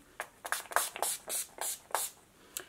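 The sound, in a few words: setting spray being sprayed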